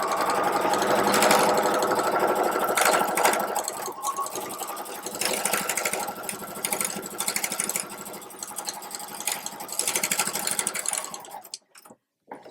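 A sewing machine runs a long continuous seam on a tote bag, its rapid mechanical chatter steady and close for most of the stretch before stopping near the end with a few short bursts.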